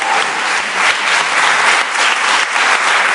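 An audience claps throughout a concert-style event, a dense, steady round of applause from a crowd with no talk over it.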